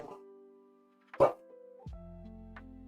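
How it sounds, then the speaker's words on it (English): A pet dog named Perry gives a single sharp bark at a moderate distance in an otherwise quiet room, followed by a low steady hum. "I just heard my dog bark"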